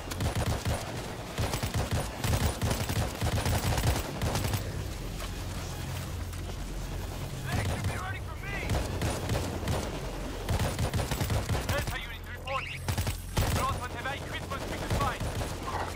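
Rapid gunfire in a shooting video game, with repeated bursts of sharp shots forming a busy, rattling fusillade that comes and goes, while people talk over it.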